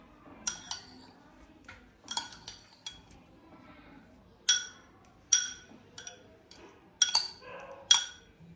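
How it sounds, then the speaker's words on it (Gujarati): Spoon scrapes and sharp clinks against a bowl while garlic-flavoured pav dough ingredients are stirred together, coming in irregular bursts with quiet gaps between them. "અને હવે એને મિક્સ કરી દેવાનું, કે જેથી કરીને જે નીચેની ફ્લેવર આવી છે ગાર્લિકની એ બધામાં મિક્સ થઈ જાય."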